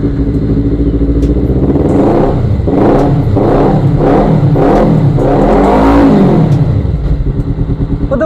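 Motorcycle with a racing exhaust revs up close and loud in a series of rising and falling blips, its rough engine note filling the whole stretch with no talk.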